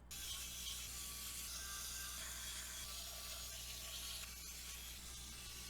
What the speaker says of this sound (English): And screw this back into place as well.